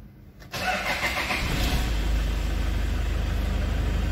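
A 2010 Toyota Innova Type G automatic diesel cranks and fires up after a brief quiet moment, then settles into a steady, loud, close diesel idle with a rhythmic low chug and no talking.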